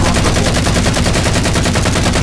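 Rapid, sustained automatic gunfire in a Halo 4 Ricochet match, a loud continuous stream of evenly spaced shots filling the whole moment with no voices over it.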